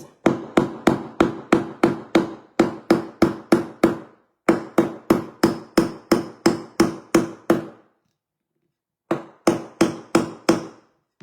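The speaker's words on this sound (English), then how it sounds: "I could not find my cute pink hammer, you guys, so I have my husband's ugly hammer" A steel hammer drives nails into pumpkin shelf decorations, striking sharp, loud blows in rapid runs of four or five, with brief pauses and one longer silence between groups.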